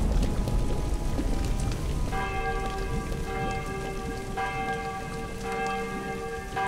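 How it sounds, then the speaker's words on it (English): Heavy rain in the Doctor Who: The Eternity Clock video game, set in Elizabethan London, a steady loud hiss of downpour with ringing bell-like tones entering partway through. "Never seen rain this bad."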